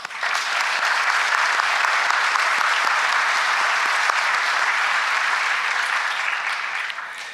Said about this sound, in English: I would like to dedicate one more round of applause to them, please.